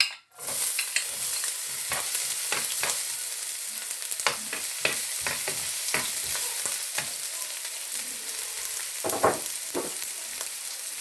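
Diced onions frying in oil in a pan, a steady continuous sizzle opening with a loud hiss as they hit the pan, broken by frequent sharp clicks and scrapes of stirring.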